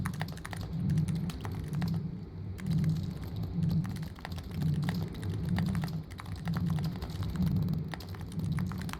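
Squishy, soft-clicking computer keyboard keys typed in a steady run of dense clacks, with a faint crumpling-paper quality, close and continuous with no voices.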